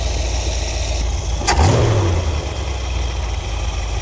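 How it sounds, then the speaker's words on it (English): A 1973 Ford Econoline engine idles at about 800 RPM after an Edelbrock carburetor tune, a steady close rumble with a brief louder rise and settle partway through. "we're at 17 and a half at about an 800 RPM idle"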